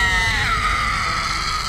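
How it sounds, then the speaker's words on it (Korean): A woman lets out a sudden piercing, tearing scream in a Korean horror audio drama, loud and sustained for a moment before trailing off. "갑자기 찢어지는 비명을 지르며 기절한 거예요"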